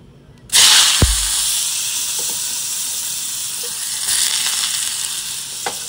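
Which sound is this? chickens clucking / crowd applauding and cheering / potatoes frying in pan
potatoes frying in pan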